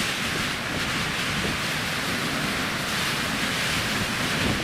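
Strong wind on a mountain: a steady, loud, broadband roar of gusting air buffeting the microphone without pause, with no voices.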